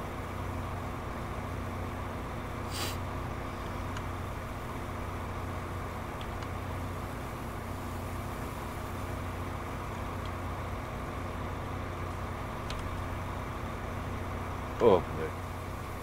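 A tractor engine in the video game Farming Simulator 19 idles with a steady low rumble throughout, with a brief sharp knock near the end.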